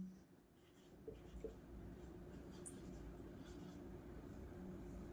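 Pen on paper as a definition is written out during a matrix math lecture. The faint, continuous scratching sits under a low steady background hum.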